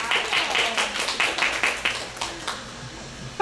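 Audience applause in a law lecture classroom, a short burst of scattered hand clapping from a small group that thins out within a couple of seconds, fairly close, with faint talk underneath.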